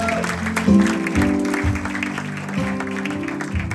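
A church congregation claps together in sustained applause while organ or keyboard chords play beneath, with voices mixed in.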